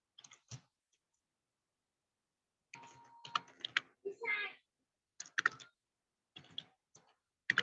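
Computer mouse clicks and keyboard taps while a new text document is created with a right-click menu, coming in short separated bursts of close, dry clicks with pauses between them.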